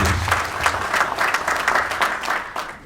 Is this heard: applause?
yes